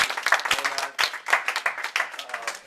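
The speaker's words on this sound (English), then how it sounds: "Norm a round of applause" A small audience at a talk to students gives Norm a round of applause: steady, close hand clapping lasting a few seconds, with a voice murmuring faintly beneath it.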